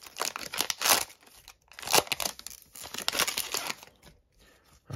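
Foil packs from an Upper Deck Extended blaster box are ripped open by hand, with repeated close crinkling and tearing bursts separated by short pauses.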